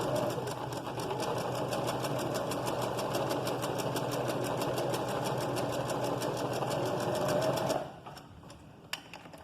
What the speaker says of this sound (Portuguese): a gente vai costurar normalmente, como se fosse uma costura reta normal